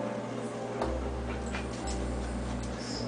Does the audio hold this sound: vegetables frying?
no